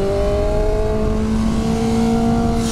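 A BMW M1000R naked superbike accelerating at part throttle, a loud, steady close engine tone rising slightly in pitch, heard alone with no voices.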